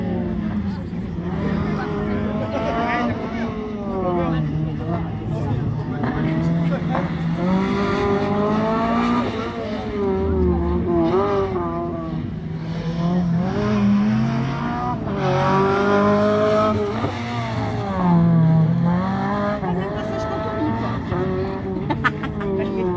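A rally car revs hard through an autocross slalom course at Ancenis, its engine rising and falling steadily as it changes gear and turns, loud and close, with speech over it throughout.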